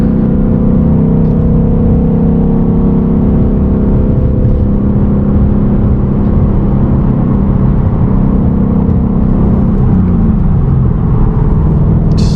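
A manual car pulls away and drives on, its engine droning loud and steady inside the cabin, with the pitch shifting slightly as it gathers speed and changes gear.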